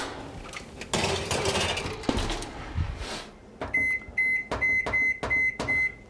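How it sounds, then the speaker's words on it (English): An oven is set as biscuits go in: a few seconds of clattering handling noise, then a quick series of about six sharp, clear electronic beeps in an even rhythm. "So we'll pop these into the oven."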